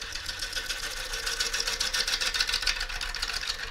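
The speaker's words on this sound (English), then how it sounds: "the angle of the bevel, the cutting edge, slices the wood rather than chops it" A lathe gouge slicing into a gnarly crotch piece of wood as it spins, giving a steady, close, rattling whir with a fast rough pulse that holds for several seconds without any talk.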